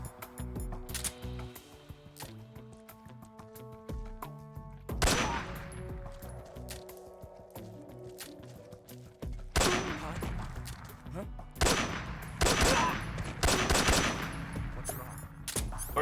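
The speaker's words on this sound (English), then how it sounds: "Those were actual gun sounds." Gunshots from the video game Metal Gear Solid 3: Snake Eater crack out in sharp single shots and rapid bursts, loud and close, mixed with game sound effects and some talking.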